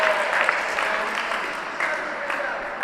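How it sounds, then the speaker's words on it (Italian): Spectators applaud steadily at an indoor handball match, a women's game between Lions Sassari and Brunico at the Sardegna Handball Cup tournament, with a sustained wash of clapping and some crowd noise under it. "Applausi per Polo"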